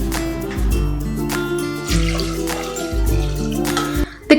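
Water pouring into a pressure cooker holding a ground, roasted toor dal mixture for sambar, a close gurgling stream with rising tones that repeats in several pours before a short clatter at the end.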